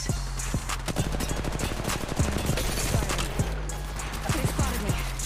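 Gunfire in the mobile battle game Apex Legends Mobile, with rapid clustered bursts of shots over a steady background of game music and effects, loud and continuous.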